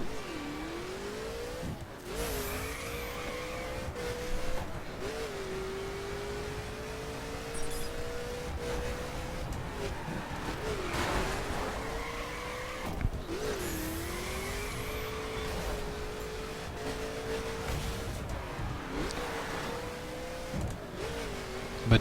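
A Mercedes 300 SLR Uhlenhaut racing in The Crew, engine revving up through repeated gear changes with rising and falling pitch, occasional tire squeal, loud and steady throughout.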